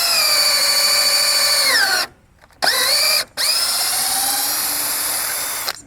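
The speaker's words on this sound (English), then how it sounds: "And then we just drill a hole." A cordless drill bores a hole in a 1.5 inch wooden board, whining steadily close up, cutting out twice briefly with its pitch dropping, then spinning back up and running on.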